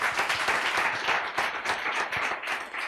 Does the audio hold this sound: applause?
yes